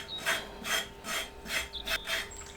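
Repeated rasping scrapes of a utensil on food during cooking of a Ghanaian turkey berry sauce, about six steady strokes at an even rhythm, close and distinct with no talk.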